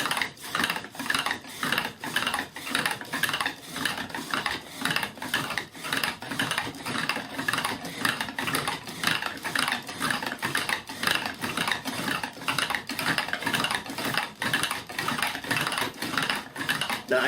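A hand-powered pump drill spins steadily on its wedged flywheel, putting out a close, repetitive whirring and clacking rhythm. The strokes pulse evenly and keep going for the whole stretch with no talk over them.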